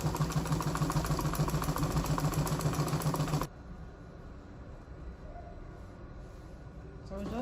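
A sewing machine stitches a quarter-inch seam down a button-down strap dress, running as a steady, loud mechanical whir for about three and a half seconds, then stopping abruptly, leaving quiet room noise.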